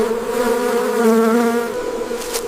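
Bees on an isolated farm buzz in a close, steady drone with a wavering hum, loud and continuous throughout, with no voices.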